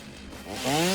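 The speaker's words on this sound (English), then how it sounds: "go in the middle, use the chainsaw." A chainsaw in the game Satisfactory cutting through foliage revs up, its buzzing engine rising in pitch and loudness over about a second, with no talking.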